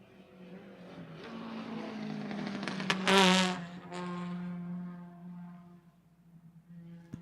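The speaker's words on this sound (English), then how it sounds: "Sam Posey straightaway towards turn number 1." Vintage race cars, including a 4-cylinder Offenhauser roadster, pass at Lime Rock Park: an engine whine swells to a loud pass at close range, then fades away.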